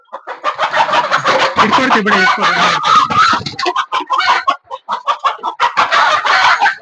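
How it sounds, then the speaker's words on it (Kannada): A native country chicken clucks loudly and continuously at a poultry shop, with other fowl around. Brief human voices mix in, and the clucking breaks into rapid bursts toward the end. "ಒರಿಜಿನಲ್ ನಾಟಿ ಕೋಳಿ ಸೌಂಡ್ ನೋಡಿ"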